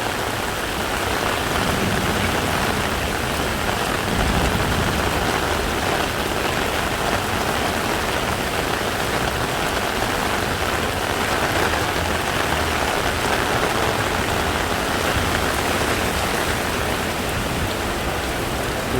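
Heavy rain pours steadily on a Bangkok street near Sukhumvit during a thunderstorm, a dense, unbroken wash of drops hitting pavement and an umbrella close by, with no talk.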